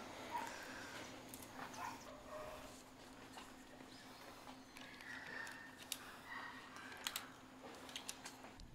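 Poodle puppies at an adoption event yip, whimper and give small barks, faint and scattered against a low room hum.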